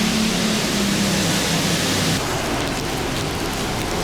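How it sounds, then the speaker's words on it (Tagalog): Heavy rain pouring down outdoors at night, a loud, steady, dense hiss of drops hitting surfaces that continues unbroken throughout. "Lumalakas na naman. So, 8:30 na. Ayaw pa tumila ng ulan."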